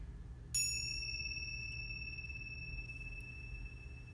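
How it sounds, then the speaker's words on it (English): A single bell is struck once during a breathing exercise in a teacher training class, a clear bright ding that rings on and slowly fades over several seconds against a soft low background hum. "After I ring the bell"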